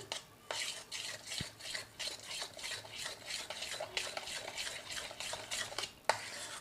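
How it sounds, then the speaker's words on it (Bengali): Dhokla batter of leftover rice (panta bhat) and curd being mixed in a bowl, a quick, repeated scraping stir with rhythmic strokes close up and a light clink near the end, no talking. "এবার এটাকে ভালো করে মিশিয়ে নেব।"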